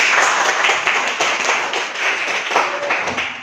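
Applause from students in a classroom, dense and fairly loud clapping that continues evenly with no talk over it.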